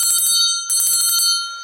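An old school hand bell rings sharply, two bright bursts of rapid metallic strikes with a lingering ring, loud and close with no voices.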